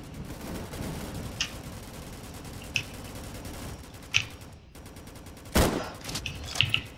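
Sniper rifle fire in the Roblox Zombies update, a handful of sharp separate shots spaced a second or so apart over a steady din of game noise, with one louder blast near the end.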